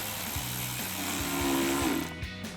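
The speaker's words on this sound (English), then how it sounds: "to tighten this hose clamp down, we're going to be using an 8mm socket and a ratchet" A hand ratchet with an 8mm socket cranks down a hose clamp on a K&N cold air intake for a 2024 Tacoma, giving a close, steady run of evenly spaced clicks heard alone.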